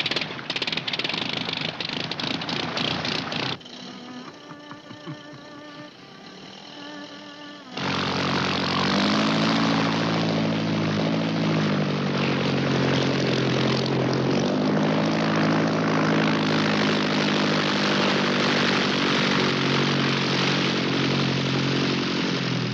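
A propeller aircraft engine starts up: a rough cranking chatter, a brief lower whirring phase, then the engine catches into a loud, steady droning roar that holds with slight pitch wavering.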